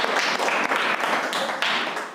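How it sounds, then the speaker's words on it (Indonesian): A classroom of students claps together in steady, dense applause that fills the room throughout. "tepuk tangan untuk kita semua"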